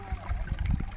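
Water from a spring source flowing as a small stream, the Diglan stream feeding a village drinking water supply: a soft, close trickling and gurgling with faint bubbling pulses.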